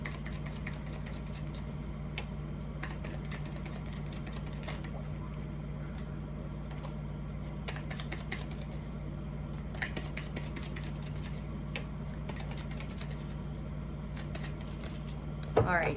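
A deck of tarot cards is shuffled steadily for a long stretch, close up, as a continuous run of crisp riffling and flicking over a constant low hum.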